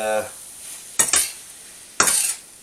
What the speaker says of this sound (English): just mix it around every so often just so it doesn't stick to the pan